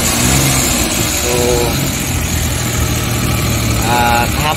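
A Suzuki DA52T with a K6A engine suffering low power, idling with a steady, loud mid-low rumble and vibration throughout, with someone talking over it.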